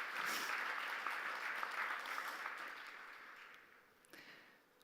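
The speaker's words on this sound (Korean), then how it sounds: "뜻깊은 축사를 해주신 유홍림 총장님께 다시 한번 따뜻한 박수 부탁드립니다." Audience at the Samsung Ho-Am Prize ceremony giving warm applause in a large hall, a steady crowd clapping that gradually fades and thins out near the end.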